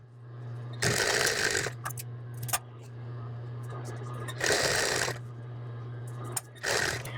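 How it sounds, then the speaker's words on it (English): A sewing machine stitches the narrow hem of a men's apron in three loud whirring runs, with a steady low hum and quiet pauses between them. "And now I'm gonna stitch that narrow hem. Back stitch, and then edge stitch across, almost to the other side."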